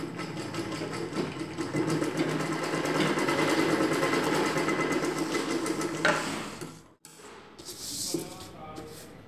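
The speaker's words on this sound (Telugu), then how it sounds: "ఇప్పుడు నెక్ చుట్టూ కుట్టుకోవాలి." A sewing machine stitches around the neck of a dress in a fast, even whir for about six seconds, then stops, followed by brief handling sounds and a short second burst.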